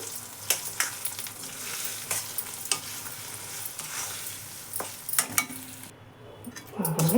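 A spoon scrapes and stirs gongura chutney with tempering in a hot pan, sizzling softly underneath with irregular clinks and scrapes close by.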